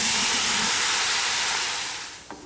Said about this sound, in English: add the boiling hot water.